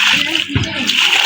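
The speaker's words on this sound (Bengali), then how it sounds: "আর দেখো আমাদের পুষ্কিনিতে পানি দেওয়া হবে।" Water splashes and pours into a small homemade backyard pool in a village, a short loud burst of splashing with a voice talking over it.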